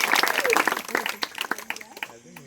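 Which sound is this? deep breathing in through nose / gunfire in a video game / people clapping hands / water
people clapping hands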